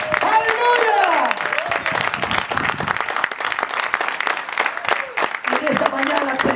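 A church congregation applauds Jesus during an evangelist's sermon, scattered clapping running beneath a preacher's loud, echoing voice that dominates the passage.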